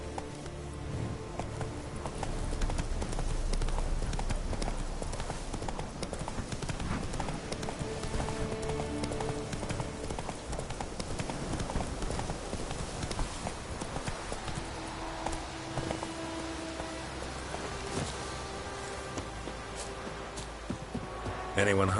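Horse hooves clop steadily and continuously while riding in the video game Witcher 3: The Wild Hunt, a rhythmic galloping patter that runs under a game music bed and a short spoken line.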